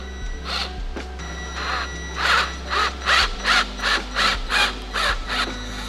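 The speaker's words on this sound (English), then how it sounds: "I have my easy out ready to go. I've drilled down the center. I'm really hoping this stud comes out." An easy-out extractor turns on a drilled-out engine stud, producing a series of rhythmic squeaking, creaking bursts that speed up into a regular sequence of about eight strained squeals. The sound is close, over a low steady hum, with no talking.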